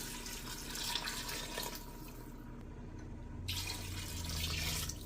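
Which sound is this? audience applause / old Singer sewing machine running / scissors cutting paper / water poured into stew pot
water poured into stew pot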